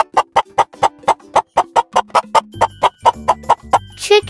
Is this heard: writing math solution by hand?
no